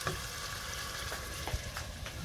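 Chopped onion fries in a hot pan with a continuous bright sizzle and crackle, close up, with a few faint stirring knocks and no voices.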